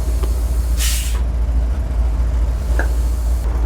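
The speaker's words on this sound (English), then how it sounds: "The coolest thing about ramp trucks with air brakes is the air brake sound." An old Dodge ramp truck's air brakes release a sharp, loud hiss, followed by a softer puff, over a steady low engine idle.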